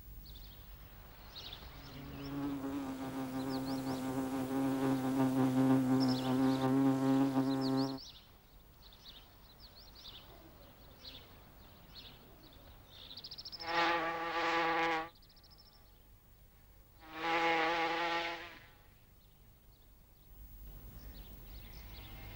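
Founding paper wasps buzz while searching for nest sites, with a sustained close droning hum followed by two shorter buzzing passes against faint background insect noise.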